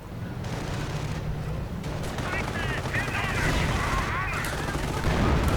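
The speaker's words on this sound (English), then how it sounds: "Bomb getting blasted, Grenadiers getting grenaded" Explosions and grenade blasts in a real-time strategy game thunder in a dense, continuous rumble of gunfire and bursts, with someone talking over the battle noise.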